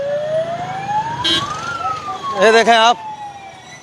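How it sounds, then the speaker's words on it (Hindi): An ambulance stuck in a traffic jam in Faridabad sounds a loud, close wailing siren that rises and falls steadily, with someone speaking Hindi briefly over it and vehicle noise underneath. "अरे चलना यार, वो एम्बुलेंस फंस रही है यार"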